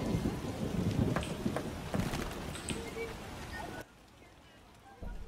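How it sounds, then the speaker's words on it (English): Rain pours steadily with low thunder rumbles in The Witcher video game, a faint, dense patter that drops away abruptly near the end. "It rains and it pours."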